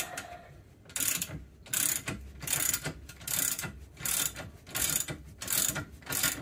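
A hand ratchet clicks close by in steady, evenly spaced bursts of about seven strokes while loosening a 21 mm or 18 mm bolt on a Ford 8.8 IRS differential. Nobody speaks.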